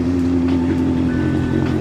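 A used Honda CB650 motorcycle with about 7,000 km on it idles nearby, giving off a steady, smooth low drone with an even engine hum throughout.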